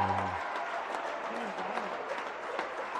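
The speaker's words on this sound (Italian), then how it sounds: "Applaude anche la panchina" At a Serie A Gold handball match between Merano and Siracusa, the crowd and the team bench applaud in a steady, moderately loud wash, with a commentator's voice and some cheering mixed in.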